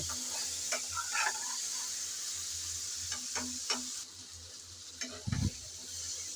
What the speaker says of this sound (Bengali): এভাবে নেড়ে চেড়ে ভাজতে হবে